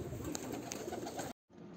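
Caged pigeons, about ten of them, give soft low cooing with a couple of brighter calls over a steady murmur, then a brief dropout before the noisy background returns.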